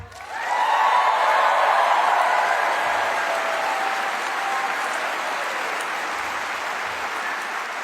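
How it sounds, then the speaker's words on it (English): A large crowd at a political rally in Michigan bursts into loud, sustained applause and cheering. The roar swells quickly and holds as a dense wash of clapping, with scattered whoops. "can we just give one more huge round of applause"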